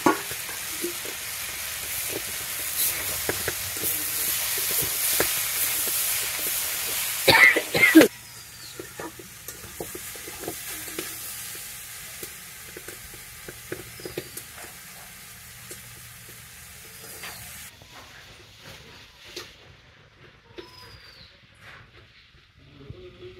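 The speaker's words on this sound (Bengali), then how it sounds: "একটু যে রসুন বাটা দিয়ে দিলাম।" Garlic paste hits a pan of frying country chicken curry in a village kitchen. A loud hiss of sizzling follows, stirring scrapes and clatters run through it, and the frying settles to a quieter bubbling hiss.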